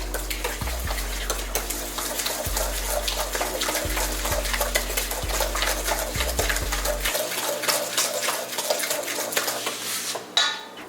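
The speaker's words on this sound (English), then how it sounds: "So 1 egg. So I'm gonna whisk this." An egg is whisked in a bowl for a carrot cake batter, giving a steady, fast run of close clinking and scraping against the bowl with no talking.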